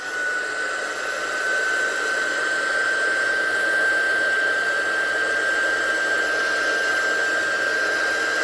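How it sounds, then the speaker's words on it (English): A heat gun blows a steady, even hiss of air over freshly stamped ink on a festive greeting card, with a thin high whine running through it, close and continuous with no talk. "I'll give that a quick blast with a heat gun now so it's fully dry"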